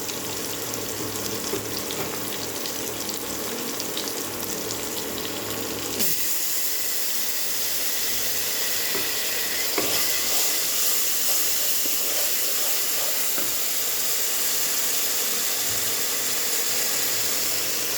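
Ginger garlic paste hitting a hot cooking pan makes a loud sizzle that sharpens suddenly partway through. The hissing stays steady afterward with light scraping and no talk.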